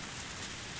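Torrential rain in the visual novel Higurashi When They Cry, a dense, steady hiss of heavy downpour filling the moment evenly, with no voices.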